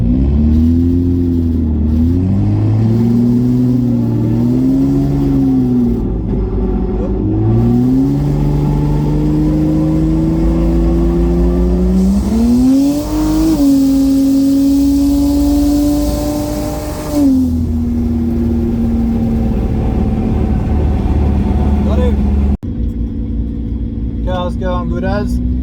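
A single-turbo BMW N54 engine running 17 psi of boost pulls hard through the gears during a run, loud rising revs with clear shifts between pulls and a brief lift near the end.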